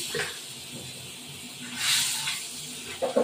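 Salt sprinkled into hot mustard oil in a pan before frying fish, producing a sudden soft hiss that swells for about a second and fades, close by, with light clatter at the start and end.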